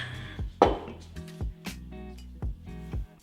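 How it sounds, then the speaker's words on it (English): Knife cutting soft dough in half for Lebanese spinach pies (fatayer bi sabanekh) on a board: a handful of separate dull thuds and sharp taps, close and spaced unevenly, with quiet pauses between. "Cutting the dough in half will make it easier to roll."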